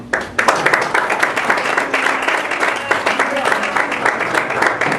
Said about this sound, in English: will not have the clapping. We are in council chambers